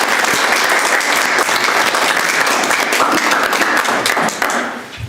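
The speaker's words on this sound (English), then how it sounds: "let's give our panel a round of applause" A large audience applauds a candidate panel at a municipal candidate forum, steady dense clapping filling the room for about five seconds before tapering off at the end.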